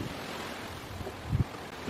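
Wind blowing outdoors around a wind generator built from an electric bike hub motor, a steady close rumble of gusts buffeting the microphone, with no voices.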